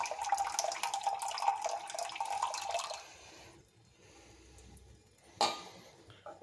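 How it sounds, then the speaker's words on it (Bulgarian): Boiled water pours and splashes over crystals while rinsing them, a loud running stream for about three seconds, then quieter trickling and a single sharp splash near the end. "тук започваме изплакването с свряла вода, за да разтвориме тези кристали."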